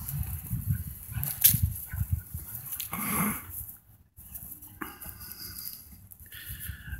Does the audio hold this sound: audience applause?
no